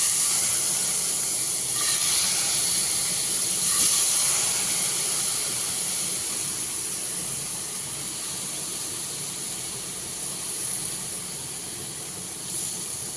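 Prawns and potatoes frying in a hot pan, a continuous loud sizzling hiss with crackle that swells slightly and then eases, heard close up with no talking.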